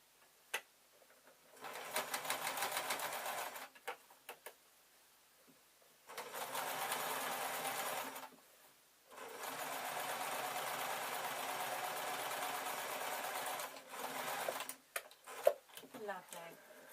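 Close sewing machine stitching fabric and ribbon for an Easter bonnet, running in three long steady bursts separated by brief pauses, with small handling knocks at the end.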